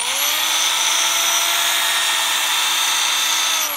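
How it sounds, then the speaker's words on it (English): A power drill whines steadily at a constant high pitch at medium speed, loud and close, running without pause while polishing a plastic car headlight with a 3M restoration kit. "So medium pressure and kind of a medium spin on the drill too"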